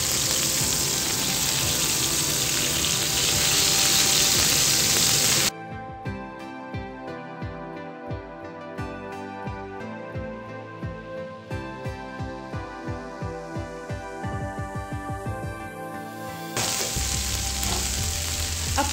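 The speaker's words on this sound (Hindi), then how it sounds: "और इसे थोड़ा सा फ्राई करूंगी।" Food frying in a pan: a loud, hissing sizzle that fills the opening seconds, gives way to rhythmic music, and then returns strongly near the end.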